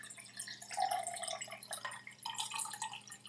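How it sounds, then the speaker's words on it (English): Water trickles and splashes into an empty glass whiskey bottle, a faint, steady pour with gurgling and dripping tones, close by with no talking. "filled it with water"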